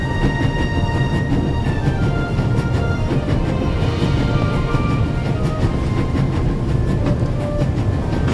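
A train running at full speed in the video game The Raven, a steady loud rumble with rhythmic clattering of wheels and faint metallic tones, continuous throughout without any voices.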